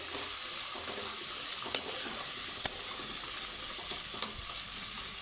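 A jackfruit seed and besan mixture fries steadily in a pan, giving a continuous close sizzle with a few soft stirring scrapes and no talking.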